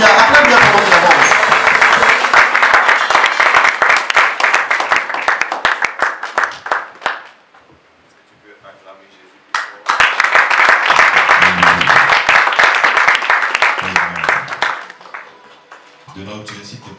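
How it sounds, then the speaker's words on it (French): A congregation at a church service applauds and cheers as the apostle Arnold Bognon walks up. Two long, loud bursts of dense clapping are separated by a brief lull, and faint voices are heard in the gap. "Alors, acclame bien pendant qu'il avance."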